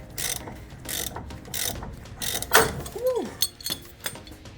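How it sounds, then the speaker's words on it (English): Ratchet clicking tightens a ball joint separator on a Jeep Wrangler LJ drag link at the pitman arm, in quick bursts of close metallic clicks, with a metal clink and a short squeak in between. "use a ball joint separator to remove this drag link from the pitman arm"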